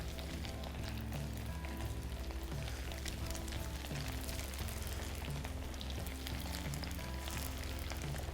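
Chicken pieces for a lemon garlic chicken pepper fry crackle steadily in hot oil, a soft continuous sizzle over a low background hum.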